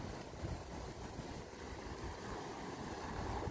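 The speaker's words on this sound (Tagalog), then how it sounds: "Lakas ng alon, oh. Lakas ng alon." Strong ocean waves surge and wash in a dense, steady roar under gusty wind, filling the whole stretch without a break.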